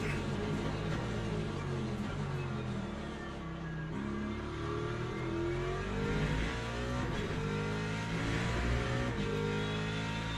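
A race car in Le Mans Ultimate lapping Algarve in an ELMS online race, its engine droning loudly and continuously, rising and falling through gear changes and revs, with faint tyre noise.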